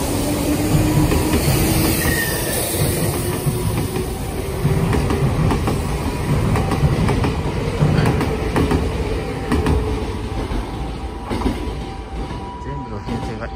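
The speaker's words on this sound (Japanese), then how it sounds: "反対側にはちょうど6000系の急行電車が走っていくわけなんですけども" A Nankai Railway 6000 series express train rumbles and clatters past close by, with steady wheel noise and faint squealing, while a person talks over it.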